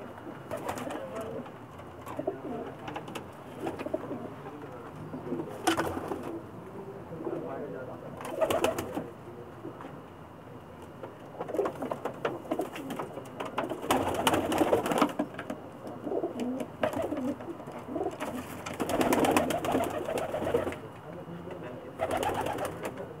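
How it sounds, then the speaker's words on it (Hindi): Pakistani breeder pigeons coo in low, repeated bursts throughout, some close and loud, with a steady background murmur of birds. "यहाँ इनके ब्रीडर कबूतर दिखा रहा हूँ मैं"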